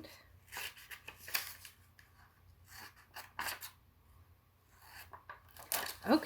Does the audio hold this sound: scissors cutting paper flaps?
yes